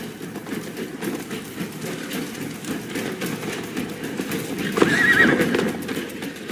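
A horse galloping in Assassin's Creed Valhalla, rapid rhythmic hoofbeats under rumbling movement, with a sharp whinny near the end, close and fairly loud.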